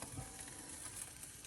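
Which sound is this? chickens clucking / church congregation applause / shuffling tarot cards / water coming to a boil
water coming to a boil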